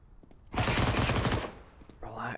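A rapid burst of MP9 submachine gun fire rattles out in a Counter-Strike match, a dense close volley lasting about a second, followed by a brief quieter shot sound, under faint commentary.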